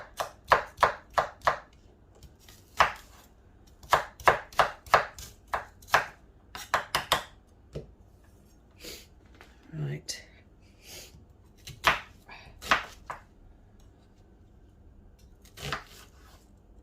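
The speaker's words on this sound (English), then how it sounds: "So go ahead and chop your onions up." A knife chops onions steadily on a board, close and crisp, in quick runs of sharp taps with pauses, and a person says a brief word softly.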